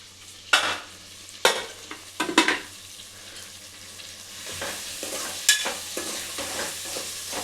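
Tomato mixture being stirred in a pressure cooker for tomato rice: a steady soft sizzle with several sharp scraping and clanking strokes of a spoon against the pot, close and fairly loud.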